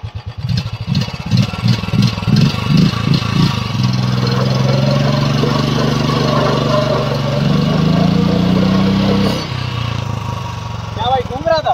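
A Royal Enfield Bullet 350 motorcycle engine revs loudly for a burnout attempt, a close, sustained pulsing drone that shifts pitch near the end before dropping away, with voices audible alongside.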